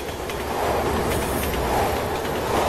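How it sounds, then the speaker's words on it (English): A train rushes past in Resident Evil 6 with a loud, steady roar and rumble, a dense continuous rolling noise swelling slightly with no speech. "The train should be coming soon."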